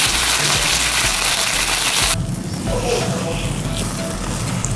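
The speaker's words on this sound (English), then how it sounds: "You can hear all that flavor sizzling already." Hot pastrami sandwich sizzling and toasting in a pan, a steady broad hiss that drops in level about halfway through, as if a lid was set on top, then continues more muted.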